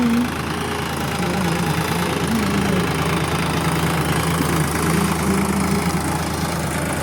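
A tractor engine runs steadily in a field, a continuous low, throbbing idle-like drone with a slight knock, moderately close and unbroken for several seconds.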